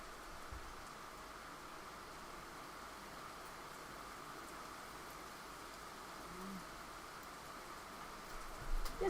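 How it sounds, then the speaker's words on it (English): Heavy rain falls steadily as a dense, even hiss that lasts throughout, faint and distant-sounding, with a few louder patters near the end and no voices. "Well, I can hear the rain."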